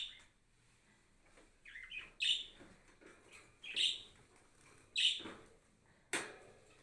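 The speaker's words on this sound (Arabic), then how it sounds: "ده عصفور انجليزي تلت" An English-type song bird, a canary kept for song, sings in short bright bursts of chirps and trills, about four phrases spaced a second or so apart, fairly close and clear against a quiet room with no talking.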